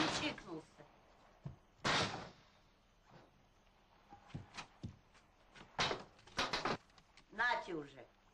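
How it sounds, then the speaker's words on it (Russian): Someone breaking down a door in a 1991 Russian comedy film: several heavy thuds and bangs come at irregular intervals, loud and close, mixed with people talking and a short shout. "дверь вышибает"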